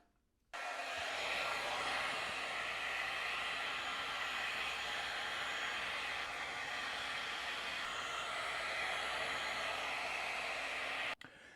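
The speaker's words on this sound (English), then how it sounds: "using a heat source like this beard straightener" A heated beard straightener runs with a steady, dense airy hiss. The sound starts abruptly, holds at an even level for about ten seconds close by, then cuts off near the end. Nobody speaks.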